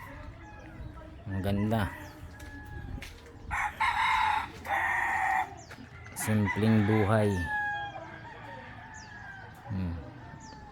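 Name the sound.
roosters crowing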